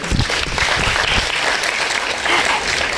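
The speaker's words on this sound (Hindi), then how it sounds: "एक बार तालियां बजा दो दोबारा" An audience at a live comedy-poetry show in Delhi applauds, a dense, loud wash of clapping filling the space throughout.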